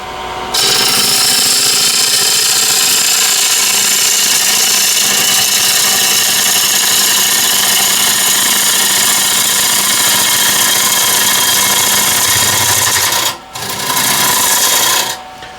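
A woodturning gouge is sharpened with a loud, close, continuous abrasive grinding that briefly stops near the end and then resumes.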